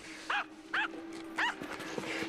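A small dog gives three short, sharp yapping barks, evenly spaced and fairly close, over a low steady hum in a quiet room.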